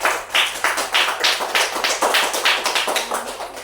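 Students in a religious studies classroom clap together in a loud, close, rhythmic pattern, sharp distinct claps landing in a regular beat about three per second.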